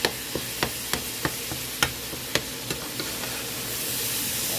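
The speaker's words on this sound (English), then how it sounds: "we've emptied our hamburger into a hot skillet. And I am chopping it up" Steady sizzling of ground beef frying in a hot skillet, punctuated by regular sharp scrapes and taps of a utensil chopping and stirring.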